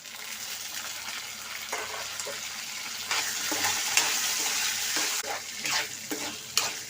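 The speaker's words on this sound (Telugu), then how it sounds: "ఇప్పుడు వేగినాయి కదా ఇప్పుడు పచ్చిమిర్చి వేసుకుందాం" Green chilies frying in hot oil at low heat, a broad steady sizzle with louder bursts and scraping stirs from a spatula, close and continuous.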